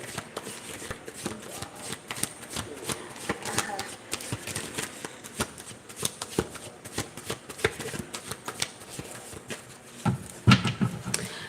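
A deck of tarot cards being shuffled, repeated riffling and flicking bursts fairly close by, with a voice talking intermittently underneath.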